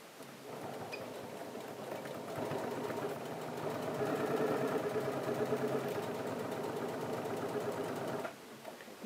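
A domestic sewing machine stitching a pocket seam, running steadily for several seconds with a rapid mechanical whir and needle clatter that rises slightly mid-run before stopping.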